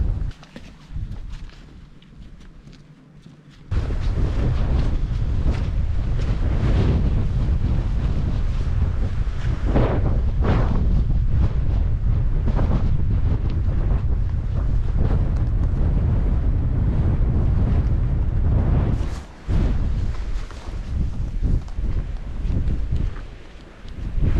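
Strong wind buffets the microphone on open Dartmoor moorland near Watern Tor in autumn, a loud continuous roaring rush that starts after a quieter opening and dips briefly near the end.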